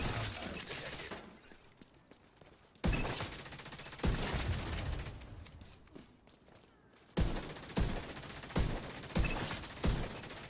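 Gunfire in The Division 2: bursts of rapid shooting with sharp, loud individual shots, some spaced in a regular rhythm near the end, between quieter stretches of game noise.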